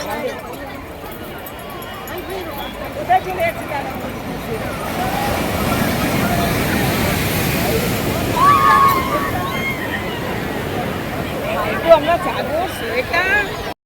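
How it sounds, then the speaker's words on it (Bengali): Sea waves wash onto the beach at Puri in a steady roar of surf, with a few louder surges, while people's voices carry faintly around the shore. "সমুদ্রের ঢেউয়ের আওয়াজ কার কার ভালো লাগে"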